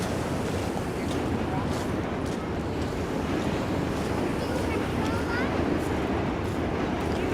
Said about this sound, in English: especially the sounds of these waves, which is quite phenomenal.